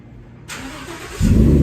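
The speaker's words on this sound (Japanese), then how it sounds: "ラプターエンジンかけてくれる？" A Ford Raptor pickup truck engine cranks and catches, then settles into a loud, steady rumbling idle close by.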